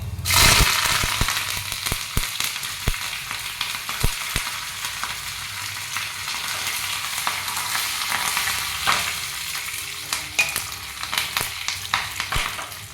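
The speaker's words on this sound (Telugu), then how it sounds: "ఆవాలు వేగేసరికి జీలకర్ర, ఉద్దిబ్యాళ్ళు, శనగబ్యాళ్ళు అన్నీ వేస్తాము" Mustard seeds, cumin, urad dal and chana dal fry in hot oil for a Rayalaseema tomato rasam tempering, with loud continuous sizzling, sharp popping crackles and a few stirring knocks, close and without talk.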